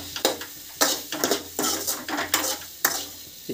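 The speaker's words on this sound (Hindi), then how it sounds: "दलिया को अच्छी तरीके से इसमें इस तरह मिक्स कर लेंगे गाइस" A spoon stirs broken wheat porridge (dalia) in a metal pot, with repeated close clinks and scrapes against the sides in an irregular rhythm over a soft sizzle.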